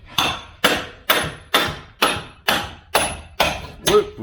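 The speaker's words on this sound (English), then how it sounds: "Come back to this one with your hammer and bolster." A hammer strikes a bolster chisel in a steady series of nine sharp, ringing blows at about two per second, each fading quickly, loud and close with no talk over them.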